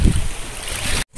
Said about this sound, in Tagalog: dahil medyo may kalakihan po yung mga alon